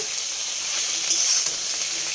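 Food sizzles and fries steadily in a kadai previously used for frying luchi, a close, even hiss of hot oil with faint stirring and no voices.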